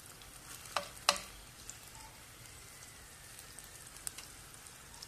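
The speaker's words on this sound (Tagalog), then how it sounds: "Madali lang yung hotdog iluto, guys. Hindi ko lang dinamihan ng mantika." Hotdogs fry in a small amount of cooking oil, giving a faint, steady sizzle with a couple of sharp clicks or taps near the start, quiet and alone without talk.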